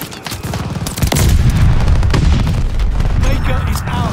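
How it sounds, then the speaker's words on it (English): Grenade blast and gunfire in Call of Duty: Vanguard multiplayer on the Berlin map, a loud boom followed by dense automatic bursts and overlapping shots, with voices talking over the combat. "Tossing grenade."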